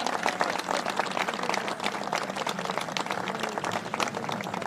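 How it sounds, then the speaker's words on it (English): Dense, steady applause from an audience at a governor's speech on the MBTA Communities housing law, continuous clapping filling the room throughout. "that is an applause line"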